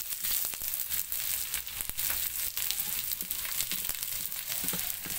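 Onion and garlic sizzle in hot oil with a loud, dense frying hiss and crackle, close up and continuous, without any talking.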